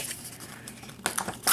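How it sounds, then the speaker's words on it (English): The perforated edges of a Canon Selphy photo print are torn away by hand, making a few short, close crinkling rips that grow sharper toward the end, with no talk. "I'll just quickly peel off the edges"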